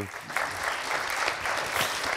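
An audience at a wine tourism conference round table applauding a speaker, a moderate crowd clapping steadily at a medium distance, fairly quiet overall.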